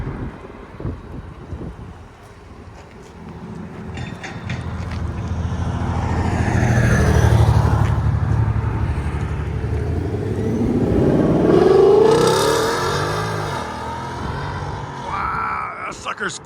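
A 2024 Ford Mustang GT 5.0L V8 with X-pipe, Outlaw mufflers and stock tips roars as the car accelerates, the engine note climbing and swelling loud twice before easing off, with wind buffeting the microphone.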